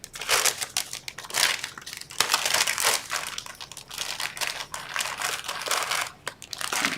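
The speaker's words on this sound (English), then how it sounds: "I took my 1/4 inch score tape" A strip of 1/4 inch score tape is peeled and handled up close, giving repeated crinkly, crackling rips and rustles in short irregular bursts with no talking.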